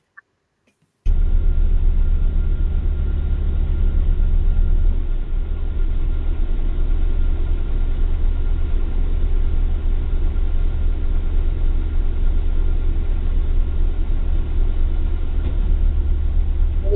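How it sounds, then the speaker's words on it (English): A car engine idles with a loud, steady low rumble that starts abruptly and holds evenly for the rest of the stretch, with no talking over it. "We could just sit here for a whole 5 minutes listening to the car"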